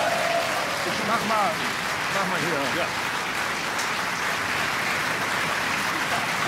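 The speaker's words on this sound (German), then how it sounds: "Applaus für diese wackere Kollegin." Studio audience applause on a German TV comedy show, a broad steady clapping bed throughout, with brief spoken remarks over it near the start.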